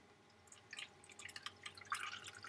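Alkaline water poured into a glass of oily tap water, faint trickling and dripping with scattered small splashes over quiet background hiss.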